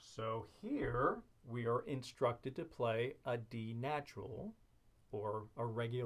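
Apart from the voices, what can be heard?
None of the usual background noises is heard.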